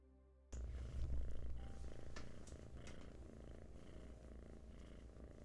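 Close, steady purring from a cat, a low continuous rumble that starts abruptly and carries on evenly.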